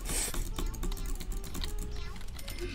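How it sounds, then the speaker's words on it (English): A computer mouse is clicked rapidly by butterfly clicking, a dense, fast rattle of close, sharp clicks that runs steadily throughout. "Okay, butterfly clicking time."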